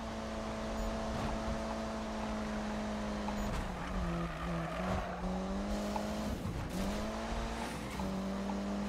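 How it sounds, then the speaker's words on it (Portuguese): A car races in Need for Speed 2015, a loud droning engine note climbing and dropping through gear shifts, with brief tire screeches and whooshes, and no talking. "O carro tá correndo pra caraca"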